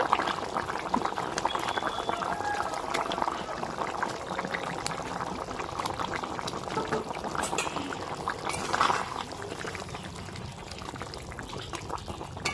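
A pot of potato fish curry simmers and bubbles steadily as fish are added, a close, continuous hiss and burble with faint clinks.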